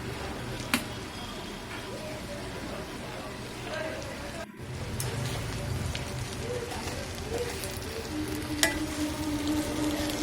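Chicken fried rice stir-fried street style in a pan, a steady close sizzle with scraping and stirring throughout, with a couple of sharp metallic clinks and a brief gap midway.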